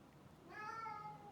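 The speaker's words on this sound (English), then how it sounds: "now I have a cat meowing at me." A tuxedo cat meows once, a drawn-out, tonal call rising out of a quiet room and holding steady for most of a second, fairly close and clear, with no talk over it.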